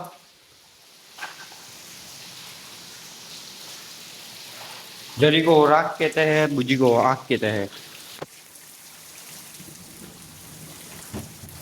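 Heavy rain pours steadily in a storm, with water coming into the house, a constant dense roar under an excited voice that speaks loudly in the middle of the clip.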